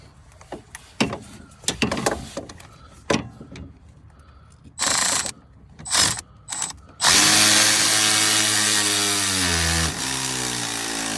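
Tightening steering bolts on a 2004 Mazda RX8: scattered clicks and clanks of a ratchet, then a loud power tool whirring steadily for several seconds and shifting pitch as it winds down, close by.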